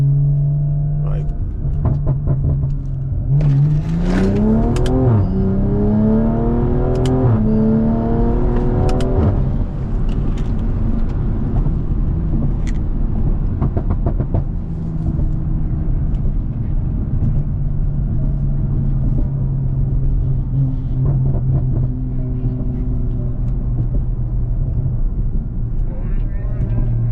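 A 500hp BMW M340i in a hard 0-60 run, engine rising through rapid climbing revs with gear changes, then settling to a loud rumbling cruise with wind noise, heard from inside the car.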